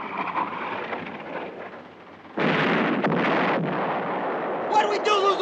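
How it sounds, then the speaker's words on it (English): Gunfire aimed at a ship in a 1960 war-comedy film, heavy booming blasts and a sustained rumbling roar out at sea following talk, with whistling sounds near the end. "Somebody's firing at us."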